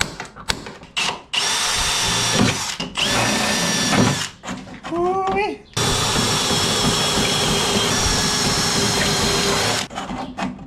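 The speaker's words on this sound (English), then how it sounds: "I'm gonna drill the holes for this, riv nut it, and make 1 more brace here" Long, loud bursts of a power drill whir while holes are drilled for rivet nuts on a tow mirror brace for a 1954 Chevy rat rod, separated by short pauses with clanks and tool handling between runs.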